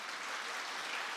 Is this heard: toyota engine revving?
no